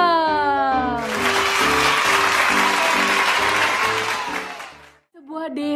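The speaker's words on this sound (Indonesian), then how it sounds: "Tepuk tangan dulu dong." Children at a kindergarten clap their hands together in a broad burst that starts about a second in and lasts nearly four seconds. A teacher's voice is heard before and after, and music plays underneath.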